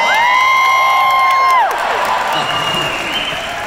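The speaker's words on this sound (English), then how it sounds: "Yeah, big applause, please." Applause and cheering from a concert crowd at a show in Worcester, MA, loud and continuous, with whoops and sustained tones from the stage over the first half before the crowd noise carries on alone.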